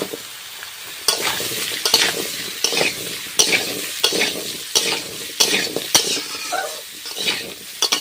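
Kohlrabi and potato pieces frying in hot oil with panch phoron and chopped garlic, a steady sizzle broken by repeated scraping stirs of a utensil against the pan, close and fairly loud.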